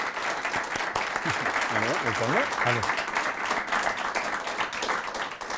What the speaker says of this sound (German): Bitte einen ganz herzlichen Beifall jetzt für den Mann, der hinter der Kamera hier zu uns nach vorne kommt.